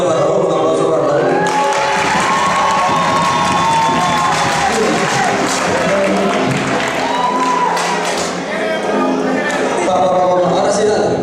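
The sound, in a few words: crowd cheering and applause for Raúl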